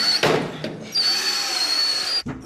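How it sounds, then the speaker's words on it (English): A handheld power drill whirs in a short, loud burst during a home renovation project, starting with a brief rattle before a steady high whine that cuts off abruptly. "Push on the drill."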